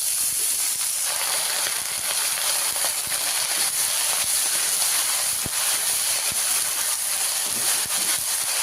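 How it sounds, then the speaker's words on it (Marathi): Drumstick leaves sautéing in a pan, a loud continuous hissing sizzle with faint stirring scrapes, no voices. "आता आपली भाजी टाकून घ्यायची घेतलेली परतायचं जरा थोडंसं"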